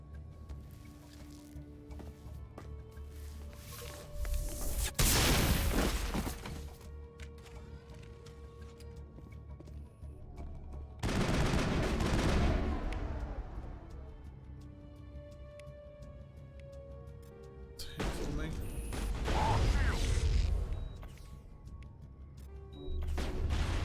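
Bursts of gunfire in the Mass Effect video game, three separate loud volleys spaced several seconds apart, each a dense crackling rattle, over a quieter steady game ambience.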